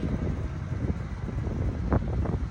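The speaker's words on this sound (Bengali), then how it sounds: "অনেক সুন্দর বাতাস মাসাল্লাহ" Wind buffets the microphone in a steady low roar with occasional gusts.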